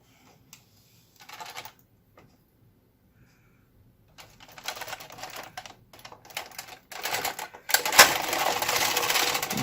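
Knitting machine knitting two rows, quiet at first with a few isolated clicks, then dense rattling carriage passes that clack and swish, growing louder and busier toward the end, close by with no talk.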